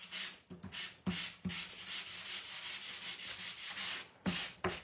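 A sanding block rubs back and forth across orange-inked cardstock for a scrapbook album layout, making quick, close, dry scratchy strokes in a steady rhythm with a few brief pauses.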